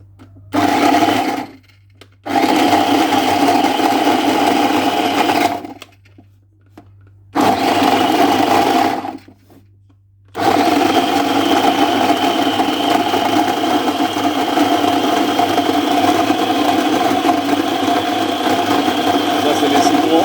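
An electric blender whirs loudly as it blends lemons, peel still on, together with ginger. The steady motor roar runs in bursts with short pauses between them, then settles into one long continuous run.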